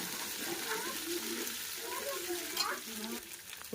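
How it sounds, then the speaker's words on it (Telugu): Ginger garlic paste sizzles and fries in a pan for a potato khichdi, a soft continuous crackle with faint stirring, quiet and close. "ఇప్పుడు అల్లం వెల్లుల్లి పేస్ట్ కూడా మనకు ఫ్రై అయింది"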